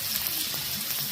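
Green chilies hit hot oil in a pan with onions already cooking, giving a steady bright hiss and crackle throughout the short moment.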